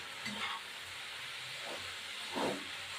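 Small fish dropped into a hot pan for a Bengali fish chorchori, a steady close hiss of frying with a couple of brief louder spits of sizzle.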